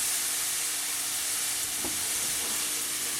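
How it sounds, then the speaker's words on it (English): Sherry vinegar hits a hot pan with olive oil to deglaze it, producing a loud, continuous hissing sizzle throughout with a couple of faint utensil taps, close and unaccompanied by talk. "So we're going to add some sherry vinegar. And that's going to kind of deglaze the pan."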